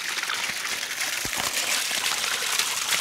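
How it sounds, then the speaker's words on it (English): Steady rushing and splashing of water gushing continuously from a pipe fountain at close range, broadband and even in level throughout. "That's a good fountain, hey?"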